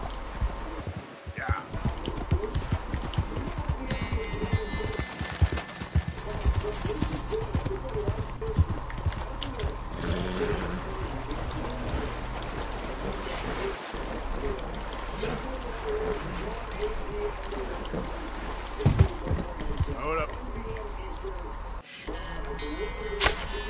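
Steady clip-clop of horse hooves runs throughout amid busy game noise and a loud, dense background, with occasional sharper thuds.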